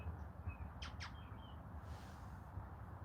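A pet bird named Mose calls out from a backyard, giving a couple of sharp squawks and a few thin chirps, faint and set back over a steady low background rumble.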